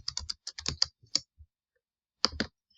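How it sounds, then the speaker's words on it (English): Short, crisp taps on a computer keyboard, a quick cluster of keystrokes, a pause, then two more closely miked strokes in an otherwise quiet room. "I'm going to type reactants"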